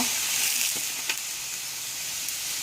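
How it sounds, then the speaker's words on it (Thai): Water poured into a pan of cooking catfish with pickled bamboo shoots sets off a steady, close, bright hiss of sizzling that runs throughout. "เราก็เติมน้ำนิดหน่อยนะคะ เพื่อให้ปลาสุกไม่แห้งแบบนี้เออ ใส่น้ำลงไปเลยนะคะ"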